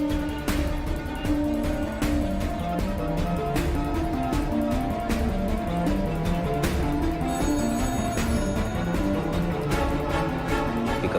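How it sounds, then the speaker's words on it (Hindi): An office telephone in a cabin rings on and on in a continuous electronic trill, fairly loud, with a busy background of other sounds beneath it. "अकबर के केबिन का फोन लगातार बज रहा है।"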